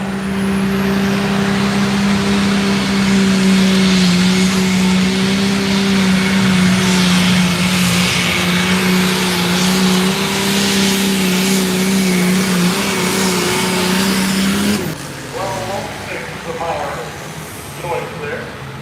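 A heavy 9,500-pound hot car at a pulling event in Indiana roars with a loud, steady engine drone that cuts off abruptly near the end, while an announcer talks over it.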